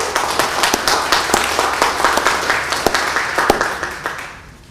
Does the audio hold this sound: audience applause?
yes